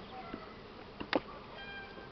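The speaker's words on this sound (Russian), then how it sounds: "Лед у пчел сильный, сейчас здесь 16 рамок в гнезде" Honey bees buzz at an apiary hive holding 16 frames, a faint low drone with a brief louder buzz as one flies close to the microphone.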